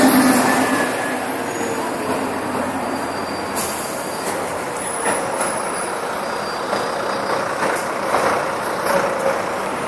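Heavy road traffic on Baker Street in London, with large buses rumbling past nearby and a high metallic squeal of brakes or wheels rising over the continuous roar, with no talking.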